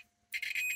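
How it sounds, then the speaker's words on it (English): A multimeter set to continuity beeps when tested across a 1 amp fuse from a Dansette 222 record player, a single short, steady high-pitched tone starting abruptly after a quiet moment. "Meter just on beep test."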